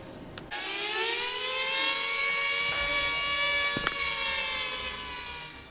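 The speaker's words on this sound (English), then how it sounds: "People were forced into emergency cellars as sirens pierced through the air." Air raid siren during the Blitz in wartime Britain, a wailing harmonic tone rising and holding steady over several seconds, moderately distant with a few sharp bangs.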